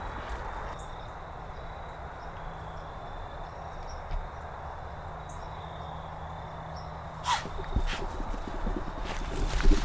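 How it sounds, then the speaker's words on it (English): A doe and her fawn run through the woods during deer season. Quiet insect and bird ambience gives way to rustling hoof steps on the forest floor that grow louder and closer toward the end. "This doe and fawn just came running right up on me."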